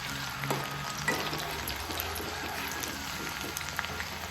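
Onion frying in hot oil in a large pot until browned, giving a continuous, fairly quiet crackling sizzle with faint pops, partly under low background music at the start.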